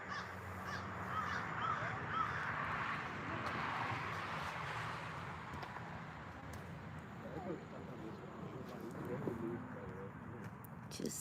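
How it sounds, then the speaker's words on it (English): A crow caws repeatedly at a beach on a Saturday afternoon, calling over steady outdoor background noise with faint passing traffic, and people talk at moments. "Beautiful bird."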